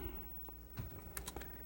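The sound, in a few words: handling a spare Commodore C64 keyboard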